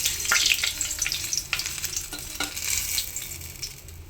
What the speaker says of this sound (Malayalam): ചെറിയതായിട്ടൊന്ന് ഈ കോണൊന്ന് എണ്ണയിലൊന്ന് വാട്ടിയെടുക്കണം